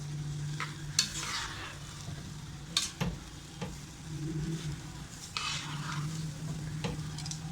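Rice being tossed with a spoon in a hot pan while cooking jaggery rice, with repeated scraping and clinking strokes of the spoon over a low, steady sizzle, the stirs coming in irregular bursts close by.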